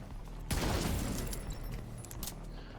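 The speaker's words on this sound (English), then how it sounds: "The shotgun, by the way, is the M870 pump with the pommel." A Remington M870 pump-action shotgun fires in The Division 2, one sharp, loud blast at about half a second followed by a long, dense rumbling tail that fades into ongoing game noise.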